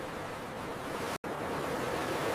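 Ocean waves wash onto a beach on an evening walk, a steady, dense roar of surf that fills the air without pause except for one split-second dropout midway; no voices.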